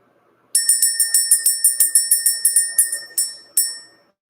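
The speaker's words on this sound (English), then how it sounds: "Let's ring this bell. Let's clear out the energy." A small bell rings in a rapid, steady series of about sixteen bright strikes, each ringing briefly, then two final separate strikes that ring out and fade, close and clear with no talking.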